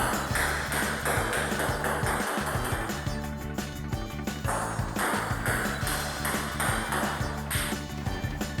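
A table tennis ball struck with a knuckle serve: sharp, bright pings recurring steadily over a continuous dense background, fairly close and loud throughout.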